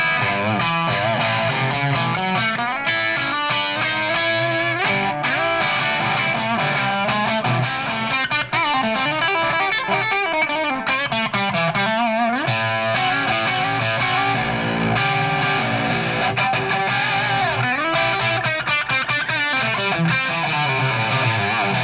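A Schecter electric guitar plays through an amplifier's clean channel with the gain turned up to about half, giving a loud, gritty, continuous stream of notes and chords with no talking.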